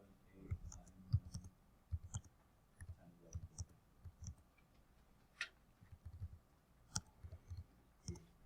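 Keys pressed one after another on a graphing calculator while entering numbers into a statistics list, a quiet irregular run of soft plastic clicks close by in a hushed room.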